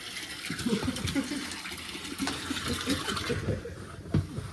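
Water is poured into the radiator of a New Holland 3630 tractor, making an uneven splashing and gurgling at close range. Voices speak over the pouring.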